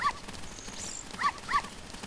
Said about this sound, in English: It's that white dog that's hiding behind the blue booth.